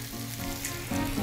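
Small batches of pork pieces sizzle steadily in a frying pan, a close, continuous crackle with no talking.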